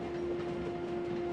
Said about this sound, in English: Just in time for the train to arrive.